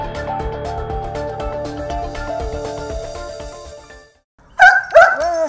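A firefighters' search dog barks and yelps loudly twice near the end, after a stretch of music with a short silent gap.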